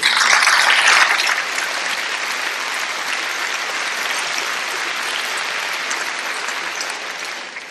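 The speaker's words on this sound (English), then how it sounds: "Very glad you applauded" Dense, loud audience applause filling a lecture hall, a sustained roar of clapping that swells briefly at the start, holds steady, then tapers off.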